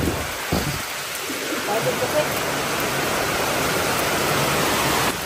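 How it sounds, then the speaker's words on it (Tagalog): Steady rain falls outdoors as a dense, even hiss that stays loud and constant. A few faint voices can be heard under it. "At humina yun na yung ulan."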